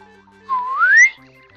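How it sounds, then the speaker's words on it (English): Slide whistle sound effect from the video game Paper Mario: a single clear whistle that dips slightly then glides upward in pitch for about half a second, set over quiet background music. "I like the little slide whistle."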